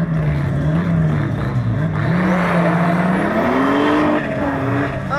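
A Polski Fiat fitted with a BMW engine accelerates hard. The loud, continuous engine note climbs and wavers as it revs, with tire noise underneath throughout.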